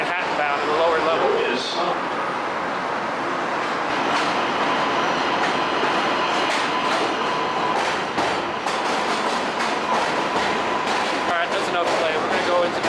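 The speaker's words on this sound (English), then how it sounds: "I get a shot of the 7 train Manhattan bound in the lower level." A Manhattan-bound NYC subway 7 train on a lower-level platform rumbles and clatters steadily, with wheel screech and broadband roar filling the space throughout.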